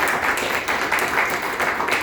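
A church congregation claps together in sustained applause, a dense, steady patter of many hands with slight swells in intensity, fairly close and filling the room, with no voices standing out above it.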